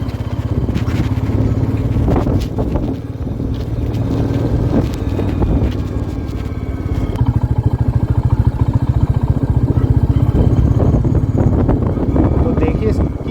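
Royal Enfield Meteor 350 motorcycle riding on a scenic curvy road, with a steady low engine drone and heavy wind buffeting on the microphone throughout, loud and continuous.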